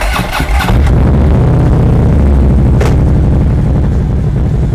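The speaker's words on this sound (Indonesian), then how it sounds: "masuk giginya motor ini sangat kasar sekali" A 2016 Harley-Davidson FLHTP police motorcycle engine idles with a deep, loud, lumpy rumble, opening with a rough clatter and a sharp clunk partway through as it is roughly shifted into gear.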